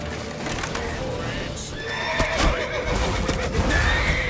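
A horse neighs and whinnies loudly and repeatedly over clattering hooves in The Witcher 3: Wild Hunt, with some busy background noise.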